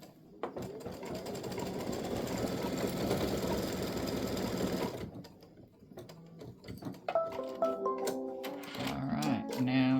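An embroidery machine stitching free-standing lace bat earrings, a fast, steady mechanical chatter of stitches that changes pace partway through and ends in uneven bursts and tones.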